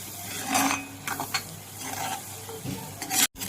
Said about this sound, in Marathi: ढवळून घेतोय।